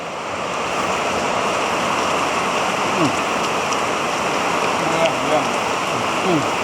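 Heavy rain pours steadily and loudly, a dense continuous hiss and roar of water falling close by, with faint voices now and then beneath it.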